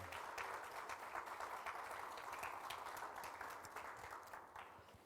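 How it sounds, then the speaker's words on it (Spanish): A church congregation applauds on a Holy Week morning: faint, even clapping that holds steady for several seconds, then gradually tapers off. "Vamos a dar un aplauso a nuestro Padre esta mañana."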